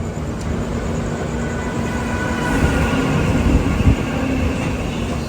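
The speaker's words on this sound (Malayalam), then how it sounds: "ഇത് മസ്ജിദ് റെയിൽവേ സ്റ്റേഷൻ." Mumbai local trains at Masjid railway station at night, a continuous low rumble with a few faint knocks, heard from close by with no talking.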